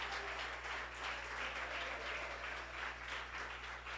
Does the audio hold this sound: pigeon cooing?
no